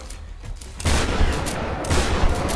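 Shotgun blasts in Tomb Raider (2013), heavy booming shots in quick succession amid combat noise, loud and close with several bursts across the span.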